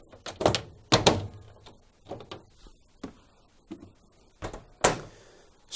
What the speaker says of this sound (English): Open and close the door just to make sure it fits correctly